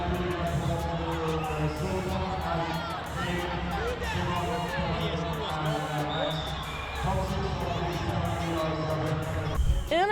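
Crowd at a girls youth wrestling match (U17 57 kg), a steady buzz of cheering and hubbub with music underneath, continuous and fairly loud throughout, with a voice talking over it.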